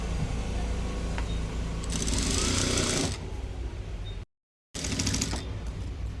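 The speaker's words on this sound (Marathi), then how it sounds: "त्याला पाच नंबरची शिलाई स्टिच करून घ्यायची आपल्याला" A sewing machine stitching the folded hem of a blouse sleeve, a loud close whirring run that shifts in pitch, a brief silent gap, then the machine running again.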